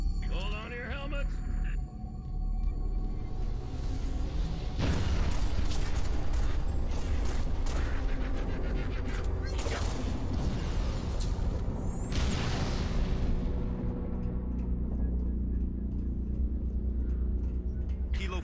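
Artillery fire from an FPF strike in Halo Reach, a loud barrage of heavy booms and rumbling blasts lasting throughout, mixed with mechanical clatter and radio chatter over it.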